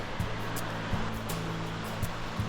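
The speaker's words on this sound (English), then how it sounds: "Look at that beautiful waterfall." Waterfall in Los Padres National Forest pouring into the Big Sur River; a steady, broadband rush of falling water, close and continuous, with low rumbling thumps that may be wind against the microphone.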